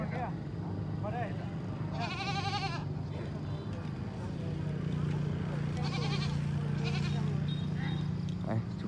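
Goats bleating at a large livestock market, several wavering calls close by and farther off over a constant low hum of crowd and engine noise, with people talking.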